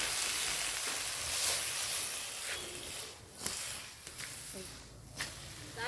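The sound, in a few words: fish frying in oil, sizzling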